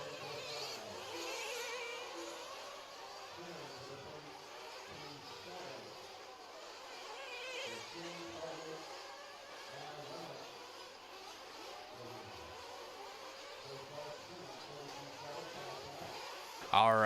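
Nitro RC cars race around a dirt track, their high buzzing engines revving and whining in the distance while an announcer talks over the action, with a sharp louder burst at the very end.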